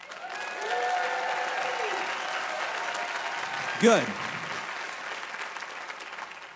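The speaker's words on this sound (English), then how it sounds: "why don't you let me know by a round of applause?" A room full of listeners at a sermon gives a sustained, even round of applause that carries on for several seconds, with a single short spoken word rising briefly above it near the end.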